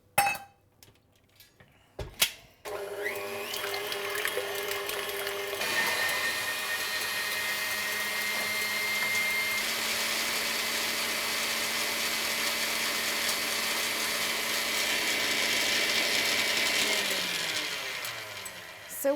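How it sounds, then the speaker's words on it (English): Electric whisk beating egg whites in a bowl: a few clunks and taps, then a steady high-pitched motor whir that runs continuously and loudly for many seconds, with no speech. "it's handy to have electric whisk"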